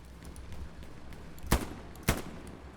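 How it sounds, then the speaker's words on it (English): Two sharp gunshots in a shooter video game, about half a second apart, loud and close over a low background din. "Oh, I missed those shots."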